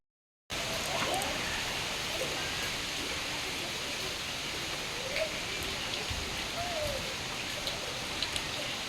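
Heavy storm rain falls during a power cut, a soft, steady hiss of rain with occasional faint drops, heard from indoors and fairly distant.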